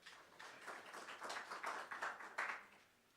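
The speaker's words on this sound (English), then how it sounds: "Please give yourselves a round of applause." Audience applause at a public signing of a sign language bill officiated by the President, a faint, distant wash of clapping that swells in uneven bursts and then fades out.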